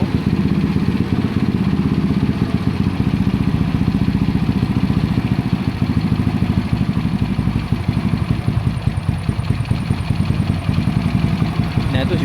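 A motorcycle engine idles steadily while its carburetor is being tuned, giving a close, continuous rhythmic putter with a mechanical clatter that runs throughout, and a voice speaks over it.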